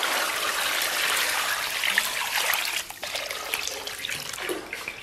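Water pours steadily into a cooking pot being readied to boil a large pork hock with sliced ginger, a continuous close splashing trickle that shifts in tone partway through as the pot fills, with no talking.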